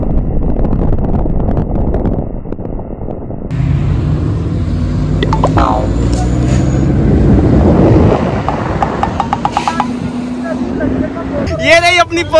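A red Bentley supercar roars loudly in public traffic alongside other supercars, its deep engine rumble rising and swelling near the microphone, heard under excited, overlapping voices and wind buffeting.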